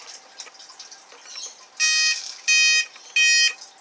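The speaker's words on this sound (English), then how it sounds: "and the alarm goes off." An electronic fishing bite alarm sounds three times, loud repeating high tones each lasting about a third of a second, after softer clicks and faint background noise.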